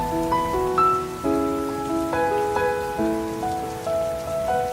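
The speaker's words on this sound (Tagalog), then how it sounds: "Umuulan na nga." Continuous rain patter sits beneath a clear stepping melody of sustained tones, the tune riding loudly over the wet hiss.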